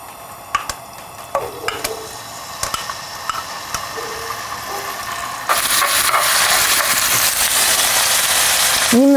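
Chicken liver fries in olive oil in a pan over very high heat, starting with scattered clinks and stirring taps before a loud, dense sizzle takes over for the rest of the clip.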